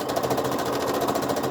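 A sewing machine runs steadily as it stitches down one side of a quilt block for a disappearing nine-patch, a continuous close whirring hum with no talk.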